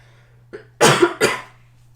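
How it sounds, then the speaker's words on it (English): A single person coughs twice in quick succession, close and fairly loud, after a brief throat sound, over a low steady hum. "I have to cough again"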